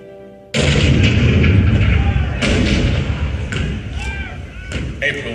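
A cannon-fire effect in a Magic Kingdom attraction show depicting the 1861 attack on Fort Sumter opens with one sudden loud boom, followed by a long rumbling decay with a few fainter thuds.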